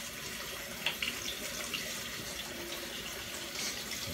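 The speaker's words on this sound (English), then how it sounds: "2 cups of rice, but I rinse off a cup at a time, right?" Two cups of rice are rinsed a cup at a time under running water, with a steady faucet stream and soft swishing and splashing as a hand swirls the grains, no voices over it.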